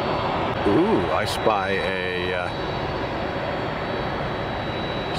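A five-year-old FedEx Boeing 767 jet at Tampa airport produces a steady, broad roar that continues through the whole stretch. A person speaks briefly over it near the start.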